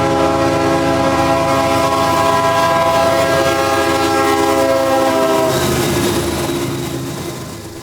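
CSX freight train 361 on the Bone Valley line rolls past the red brick former ACL depot at West Broadway Street in downtown Fort Meade, its horn blaring a loud sustained chord over a steady rumble that eases off at the end.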